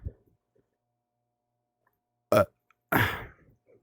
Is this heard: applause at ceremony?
no